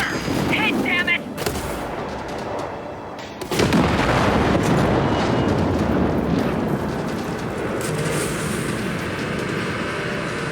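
Heavy weapon fire and explosions in the video game Ace Combat 7 Skies Unknown, a loud booming blast followed by a sustained roaring rumble of gunfire and detonations.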